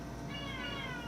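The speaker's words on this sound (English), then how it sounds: "That's the cat." A cat meows once, a short faint rising-and-falling cry heard against a steady background hum, with no one talking over it.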